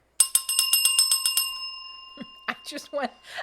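A bicycle-style bell dings rapidly about eight times during a live tool-talk stream, bright and ringing, then fades as people talk and laugh.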